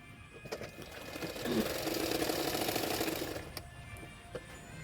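A sewing machine stitches a blouse seam with a half-inch margin, its fast, even whirring rattle rising in the middle for about two seconds and then stopping, with faint clicks around it.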